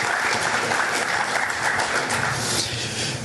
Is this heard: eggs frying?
no